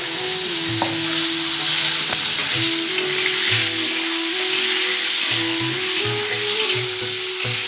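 Kohlrabi frying in oil with white cumin, a steady loud sizzle and hiss filling the whole stretch, with faint stirring scrapes and a low hum running underneath.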